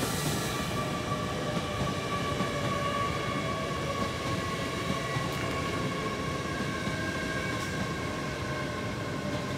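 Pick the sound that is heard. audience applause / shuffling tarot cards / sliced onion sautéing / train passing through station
train passing through station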